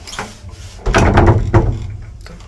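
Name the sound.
door being pulled closed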